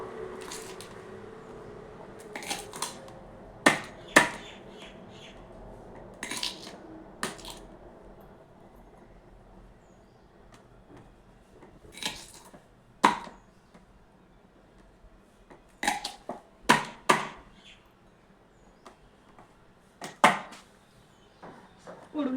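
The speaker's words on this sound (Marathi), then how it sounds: "माझ्याकडे लसूण बारीक करायसाठी नाही आहे, तर मी काहीतरी जुगाड लावून वाटीने मी ठेचून घेते याला जरा" Garlic crushed under a small bowl in a home kitchen: scattered sharp, close thuds and squishy knocks in uneven bursts, with quiet background between.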